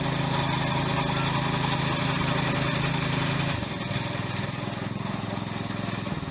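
Lifan engine on a walk-behind tractor runs nearby during potato planting on a plot, a steady loud droning putter that shifts slightly lower partway through and continues evenly.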